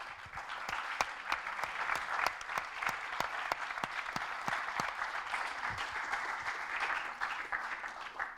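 Sustained applause from an audience at a student project presentation, steady clapping with a few sharper individual claps standing out, fairly distant and even throughout with no talk.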